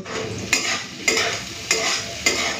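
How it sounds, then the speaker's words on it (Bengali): Bitter gourd and potato pieces sizzle in a pan as a spatula scrapes through them four times at an even pace. Each stir is a sharp rasp over the steady close frying hiss, with no voices. "উচ্ছে আলুটা লাল করে ভেজে নিয়েছি।"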